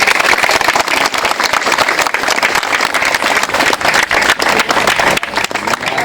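Loud, sustained applause from a crowd at a public office opening event in Maddurupadu, dense clapping filling the whole stretch without a break.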